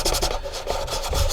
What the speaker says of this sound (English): we want to give this a good sanding until basically it reaches our galley supports.